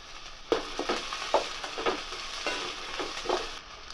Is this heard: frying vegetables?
yes